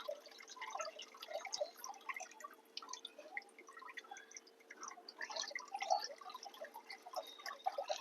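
Milky liquid from soaked wheat, strained by hand through a doubled cotton cloth, drips steadily in soft, irregular patters of small drops, faint and close, with no talk.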